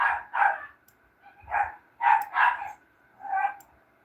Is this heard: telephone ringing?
no